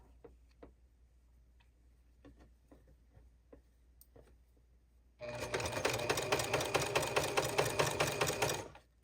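A sewing machine back stitching the seam of a beginner wrap dress made from a New Look K6581 pattern, running in one steady, loud mechanical burst for about four seconds after a quiet stretch of faint ticks and handling noises.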